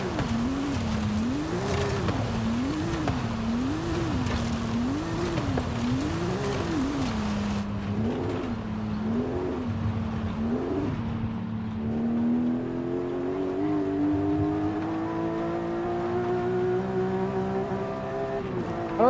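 Car engine in the racing game Forza Horizon 5 wails at steady revs with a rhythmic wavering pitch, then drops and climbs smoothly again through a long acceleration, loud and continuous with no voices.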